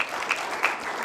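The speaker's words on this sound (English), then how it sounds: "Let's welcome him to the stage with a warm round of applause." Steady applause from an audience, a dense wash of clapping with a couple of brief louder swells, no voices over it.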